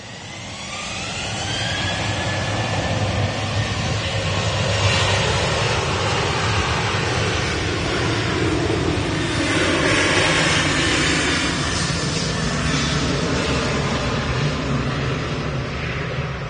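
At Manchester Airport an airliner departing for Athens takes off with a loud jet roar that swells within the first seconds and holds as a sustained, rushing thunder.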